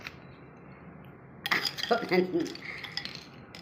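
Cutlery and dishes clinking in a short burst of bright metallic taps and scrapes as people begin eating a home-cooked meal, preceded by quiet room noise, with faint voices nearby.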